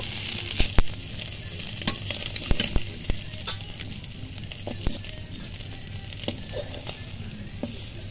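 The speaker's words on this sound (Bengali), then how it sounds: "মাছগুলো খুব ভালো করে ভেজে নিয়েছি, এবার তুলে নেব।" Fish caught from a home pond crackles and sizzles in hot oil in a kadai, a steady frying hiss broken by scraping stirs and small clinks of the spatula.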